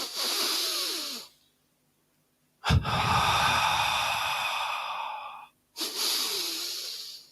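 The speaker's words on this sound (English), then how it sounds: "Let's double breathe and pull our energies up." Close, loud breathing exercise: a drawn-out nasal breath, a pause, then a sharp double inhale sniff flowing into a long airy breath, another pause, and a further breath.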